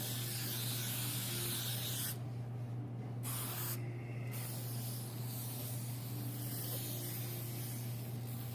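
Spray glue hisses out of an aerosol can onto a mirror collage in two sharp bursts, each about a second long, close and fairly loud over a steady low background hum.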